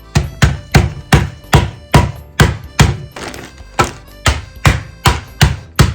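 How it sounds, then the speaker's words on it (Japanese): A rolling pin pounds chunks of lotus root inside a bag, giving about fourteen heavy, dull thuds at a quick, fairly even rhythm, each striking close and loud, with no speech. "そして袋に入れて、あとは綿棒で叩くだけです。"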